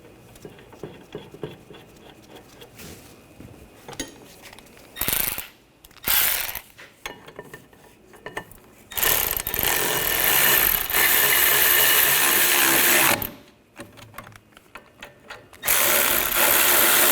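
A ratchet tightens the caliper bracket bolt on a 2014-2020 Nissan Rogue during a rear brake caliper job, with bursts of close, loud mechanical clicking and whirring broken by short pauses.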